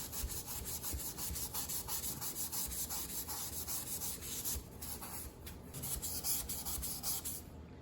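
A gray abrasive finishing pad rubs steadily across a rust-stained, scratched stainless steel refrigerator, a continuous close scrubbing with rhythmic back-and-forth strokes for the whole stretch.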